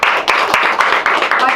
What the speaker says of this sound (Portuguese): Palmas para Jesus de novo.